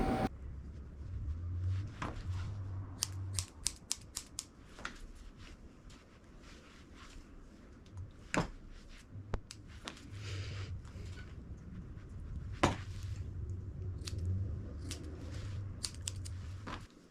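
Curved grooming scissors snip a Maltese-poodle mix's facial hair, trimming it short and round: quiet, close, irregular clicks and short snipping bursts over a low steady background hum, with no talking.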